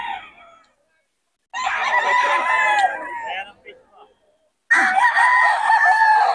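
A young stag gamecock crows twice at a Bocaue gathering, each call loud and close, drawn out and harsh with a falling tail, separated by a short quiet gap.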